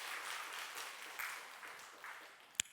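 A church congregation applauds during a Sunday worship service, a soft, diffuse patter of many hands that fades gradually, heard from a distance with one sharper clap near the end.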